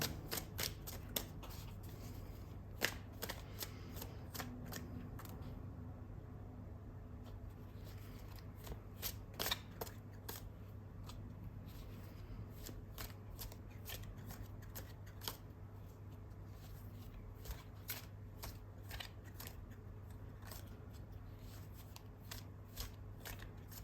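Tarot cards are shuffled by hand in a quiet room, with soft riffling and sharp snapping flicks repeating irregularly over a low steady hum.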